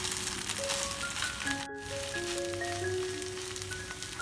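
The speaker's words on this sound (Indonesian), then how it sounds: "Setelah bagian bawahnya kering, aduk lagi." Egg macaroni frying in a pan being stirred, a soft continuous sizzle with light scraping and rattling, moderate and steady throughout, with a brief gap in the middle.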